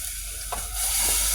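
Squid adobo sizzles in a pan over high heat, a loud steady frying hiss close up with a brief stirring scrape partway through.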